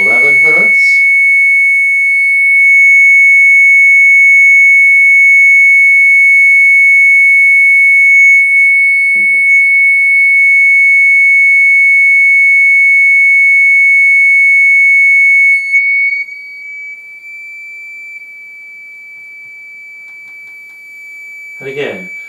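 Sine wave test tone driving a Chladni plate, a loud, steady pure pitch held for about fifteen seconds before shifting slightly, with brief sounds at start and end.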